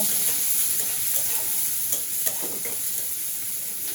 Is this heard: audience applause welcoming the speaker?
no